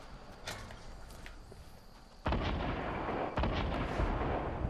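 Video game gunfire cracks in a few sharp shots, then a louder sustained burst of firing and blasts in the second half, with faint footsteps and no speech.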